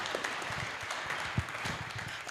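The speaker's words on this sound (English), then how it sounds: "Please let's clap for him." Audience clapping at a teachers' convention, a brief, moderately loud patter of scattered hand claps from the crowd, fairly close.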